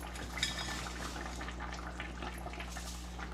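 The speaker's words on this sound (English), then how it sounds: "Now that your stock has come to a boil, you want to gently" Stock at a rolling boil in a pot as spaghetti goes in, giving a steady low bubbling hiss with light scattered splashes and a small knock near the start.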